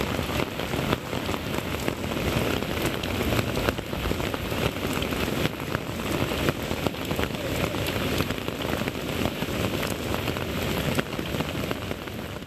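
Steady, dense rain falling continuously in Vaniyambadi, Tirupathur district, a constant even hiss of drops on surfaces with no voices, loud and unbroken throughout.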